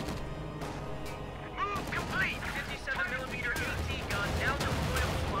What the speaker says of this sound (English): Bit of lot of shooting there.